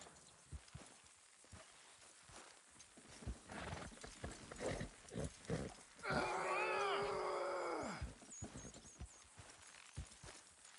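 Horses in Red Dead Redemption 2 clop and strain while pulling a load, hooves thudding steadily under a game soundtrack, with a loud whinny near the middle standing out clearly.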